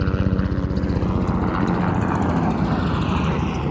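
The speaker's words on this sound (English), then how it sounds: "There's a helicopter." A helicopter passing overhead, a steady loud rotor thrum with rapid regular chopping pulses sustained for several seconds, no voices.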